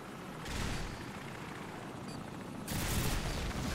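Rapid automatic gunfire bursts in the Call of Duty 4: Modern Warfare campaign, dense crackling volleys with a helicopter-like rumble underneath, swelling louder partway through and again near the end, with no talk.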